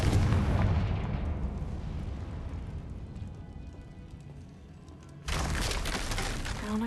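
Confringo, the explosion spell in Hogwarts Legacy, sets off a loud, close boom that rumbles and decays over several seconds, followed by a second burst of crashing debris.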